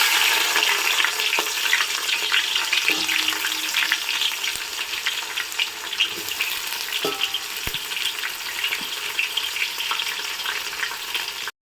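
Sliced onions with a pinch of salt sizzle steadily in a hot pan for Hyderabad-style goat head curry, a loud continuous crackle broken by a few sharp stirring clinks, with no talking.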